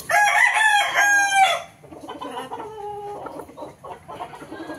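A rooster crows loudly and close by in one long call, and then nearby chickens keep up a softer run of clucks and short calls.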